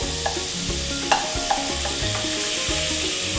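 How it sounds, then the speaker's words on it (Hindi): A stick of butter melting in a pot on a stove gives a steady soft sizzle, with a few sharp clinks and scrapes as it is stirred, close and moderately loud, with no talking. "अभी मैंने देगची रखी है चूल्हे पे, इसमें मैं ये एक स्टिक बटर डाल रही हूँ।"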